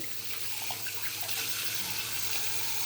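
A tap runs into a sink while a child washes hands and mouth, a steady close hiss of flowing water with no clear voices over it.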